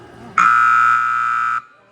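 A single loud electronic buzzer blares for about a second, steady and harsh, with faint murmuring before it.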